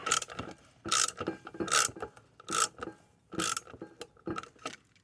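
A wrench ratchets bolts tight while a bench grinder is mounted to a workbench, giving repeated bursts of close, clicking pawl strokes in an uneven rhythm with short pauses, and no voice.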